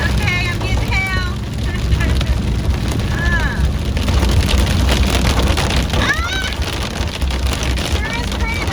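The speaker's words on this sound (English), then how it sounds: "Sure is pretty, but I do not like the hail." Hail drums steadily on a van's roof during a storm, a dense continuous rattling roar with low rumble, while a person talks over it at several points.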